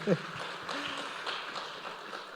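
An audience at a Chhattisgarh conclave applauds, a steady, dense wash of clapping held for a couple of seconds after a brief voice at the start.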